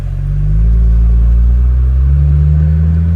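A 2004–2008 Acura TSX with a Yonaka aftermarket exhaust pulls away in automatic mode, its deep, loud exhaust drone rising steadily and holding a smooth low rumble.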